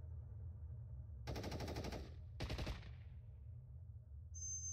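Bursts of automatic machine-gun fire, two loud sustained volleys close together with a brief gap between them, set in a World War II horror tabletop role-play scene, no talking over it.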